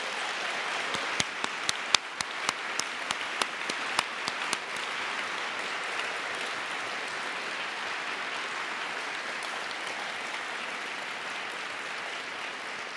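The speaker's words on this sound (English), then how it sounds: "Another round of applause and a bow, please, colleagues." Applause from the audience at the ANU Three Minute Thesis (3MT) 2017 competition: a few sharp, distinct claps at first, then steady, dense clapping that carries on evenly to the end.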